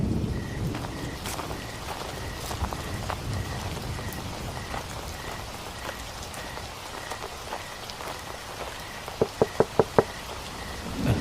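Heavy rain pours steadily and densely, drumming on surfaces, with a quick burst of sharp knocks near the end.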